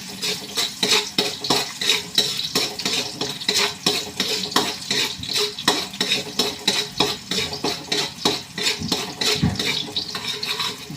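Garlic frying in a pan for tinolang manok, with a continuous loud sizzle and rapid, rhythmic scraping and clinking of a utensil stirring against the pan, close up and without talk.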